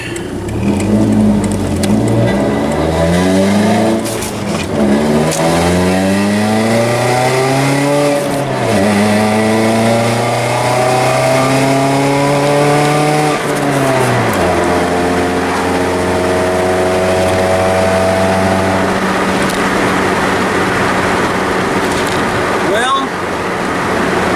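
A car with a 2.0L Zetec engine and a modified MAF housing revs up through several gears on a test run, the engine note climbing and dropping in repeated sweeps, loud and close throughout, with someone talking over it at times.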